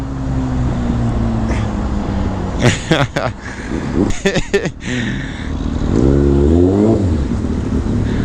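A Kawasaki Ninja 600 sport motorcycle passes by with a rising, revving engine note that swells near the end, while riders chat loudly over it.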